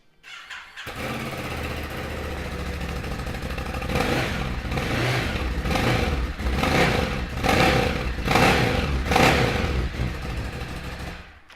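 A 2018 Ducati Scrambler 1100 starts with a cranking whir, then catches into a loud, close, lumpy idle with several rhythmic blips of the throttle.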